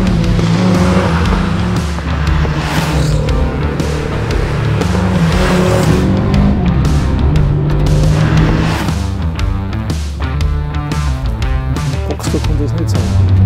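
A Porsche 924 Carrera GTS rally car blasts along at full throttle, its engine rising and falling through repeated gear changes with occasional tire squeal, loud and close throughout.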